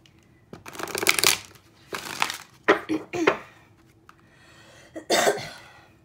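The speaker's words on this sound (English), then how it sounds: "You got me coughing" Several rough coughing bursts, close and fairly loud, spaced out with short quiet gaps between them.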